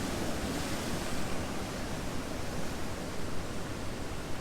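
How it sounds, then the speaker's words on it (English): Ocean waves crash against rocks on the Madeira coastline, a dense, steady roar of surf and spray with no clear gaps, heard close to the water and alone without voices. "I'm still trying to catch all of these waves that are crashing"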